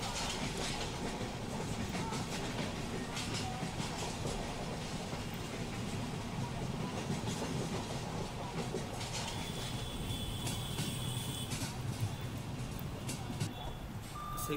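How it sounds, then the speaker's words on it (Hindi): A Mumbai local train runs near Bandra Terminus, a dense, steady rumble of rolling wheels and rail noise filling the scene without a break, with faint tonal beeps and a brief squeal partway through. "वहां से शायद चर्चगेट लोकल भी डिपार्ट होने वाली होगी"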